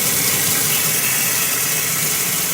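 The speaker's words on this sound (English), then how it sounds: "So to start this, I'm gonna wanna turn my water on." Tap water running steadily at a sink beside a 180-gallon peninsula reef aquarium, a continuous broadband hiss and splash, close and fairly loud, with no talking.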